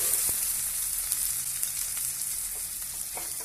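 Ingredients sautéing in oil in a pan for an elephant foot yam kuzhambu, giving a continuous, moderately quiet sizzle with faint crackles throughout.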